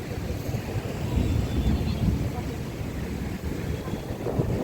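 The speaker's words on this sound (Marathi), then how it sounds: "पाऊस आल्यामुळे मस्त लाटा तयार झाल्यात" Steady wash of rain-whipped waves on an open dam reservoir, blended with gusting wind rumble against the microphone, continuous and fairly loud throughout.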